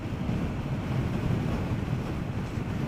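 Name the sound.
strong wind blowing into the microphone while motorcycling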